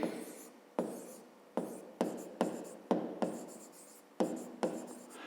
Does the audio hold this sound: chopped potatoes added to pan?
no